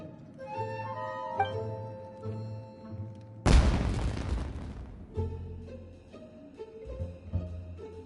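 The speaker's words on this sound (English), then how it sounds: "It sounded like fireworks." A single loud burst like a firework explosion in the Genshin Impact video game, set against a melodic game music background, with a brief rumbling decay.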